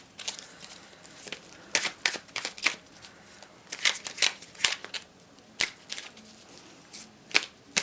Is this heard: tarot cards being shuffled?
yes